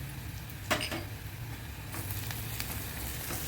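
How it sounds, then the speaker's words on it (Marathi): Turmeric and masala sauté with onions in a pan for raw papaya bhaji, giving a steady close sizzle broken by a few light metallic clinks from stirring. "चांगलं परतून घेऊ."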